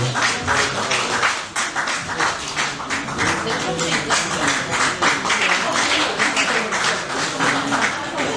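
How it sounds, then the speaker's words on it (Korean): Steady crowd applause fills the hall at a professor's retirement lecture and award ceremony, loud and unbroken throughout, with some voices mixed in beneath the clapping. "저들께서 큰 박수 부탁드리겠습니다."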